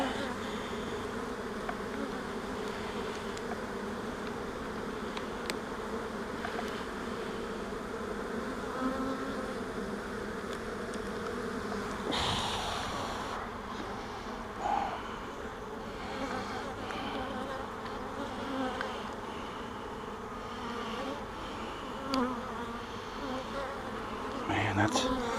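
Honey bees buzz steadily in a dense, continuous drone around an open hive whose comb is backfilled with honey, heard close and loud throughout with a brief rustle midway.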